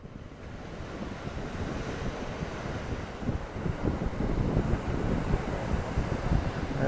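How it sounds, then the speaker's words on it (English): Steady wash of ocean waves below a coastal overlook at Ericeira, Portugal, with wind rumbling across the microphone, the surf swelling slightly louder toward the end. "Being near the waves, the sound, the energy, just always so soothing for me."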